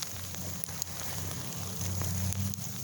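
Ice and sleet fall steadily during a snowstorm, making a faint, continuous patter and hiss across the whole stretch with a low hum underneath and no talking.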